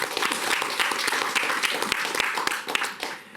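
Sustained applause from an audience at a French awards ceremony, dense and steady clapping throughout with individual claps audible, tapering slightly at the end.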